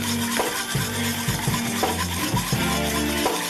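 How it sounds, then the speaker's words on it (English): Metallic silver paint being stirred in a cup: a close, continuous scraping and swishing of a stick against the cup, with regular strokes and no talk. "Get it back in the cup. Stir it up some more."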